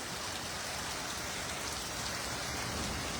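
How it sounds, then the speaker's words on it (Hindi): Heavy rain pours during a storm in Bilaspur, India, a dense, loud and unbroken roar of drops hammering surfaces, constant from start to finish with no voices. "ये देखिए जितनी तेजी से बारिश हो रही है"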